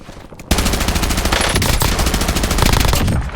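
Loud, sustained automatic gunfire from an MPC-25 in the video game Warzone, a rapid unbroken burst of shots lasting about three seconds.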